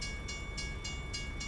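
A ghost train rolling by in a video game, a soft rhythmic clatter of evenly spaced hissing pulses over a low rumble, heard alone without speech.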